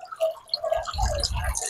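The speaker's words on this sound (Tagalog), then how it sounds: "Galing dyan sa fountain, babagsak dito." Aquarium water trickles and splashes down from a small fountain while the pump runs, with drips and a low gurgle building after the first half second, close and fairly quiet.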